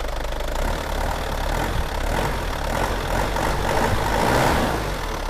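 Isuzu Dragon Power pickup's diesel engine being revved, a loud, close rumbling engine note that rises slightly and holds steady, with no talking.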